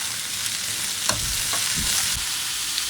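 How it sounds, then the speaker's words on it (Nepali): Potatoes frying in a pan as frozen bitter gourd goes in, giving a loud, steady, close hiss of oil with a few soft stirring thumps and scrapes, no voices. "पहिला आलु हालेर भुट्दैछु। यतिको रातो भएपछि अब मैले यसमा करेला हाल्छु।"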